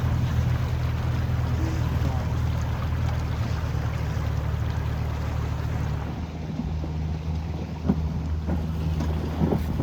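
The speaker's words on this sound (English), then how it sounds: "doing a little bit of boat driving here in Antarctic Sound" A boat motors through Antarctic Sound with a steady low engine drone under heavy wind buffeting the microphone, water rushing alongside throughout.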